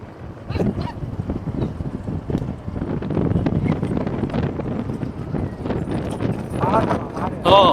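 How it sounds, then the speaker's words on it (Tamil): Bullocks pull carts at a village race, their hooves clopping steadily and busily on the track under wind noise, with voices calling out and a horn near the end. "இந்த மாட்டு வண்டி தான் முதலாவது இடமா ஓடிக்கொண்டிருக்கோம்"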